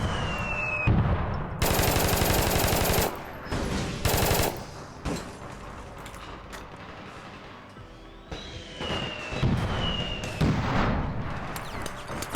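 Rapid automatic gunfire with recoil in a video game, loud close bursts of sustained fire broken by short pauses, with quieter scattered shots and game effects between the volleys.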